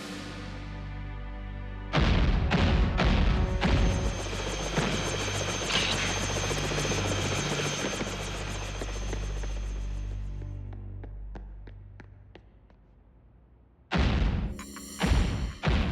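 Animated helicopter rotors whir in a steady loud drone while a cartoon rescue helicopter flies during a downtown fire emergency, with thumping hits at the start and a fresh burst near the end.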